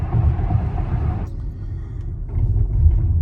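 A car heading south on Interstate 25 gives a steady low road rumble inside the cabin, briefly dipping before swelling again.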